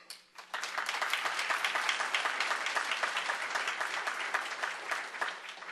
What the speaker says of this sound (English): A round of applause for our awardees.